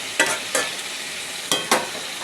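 Jackfruit masala fries in oil under a steady sizzle, and four sharp scraping strokes of a spoon stirring the pan come in two pairs.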